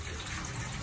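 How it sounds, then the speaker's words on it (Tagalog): Water gushes strongly from a kitchen tap while raw pork is washed for sinigang, a dense, steady rush close by. "Lalakasan yung tubig."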